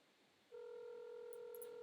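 A telephone dial tone from a sound-effect layer in an electronic track, switching on abruptly after a brief hiss and holding as a steady, clean, loud hum, with faint high blips near the end.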